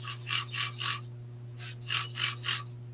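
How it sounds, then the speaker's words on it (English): A spray bottle of plain water squirts in two rhythmic bursts of four or five quick hissing spritzes, close by, with a low steady hum underneath. "I got my little spray bottle, nothing but water"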